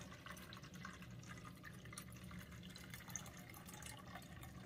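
Water holding suspended manganese dioxide particles poured off from settled sediment, a faint, steady, even trickling with no voices.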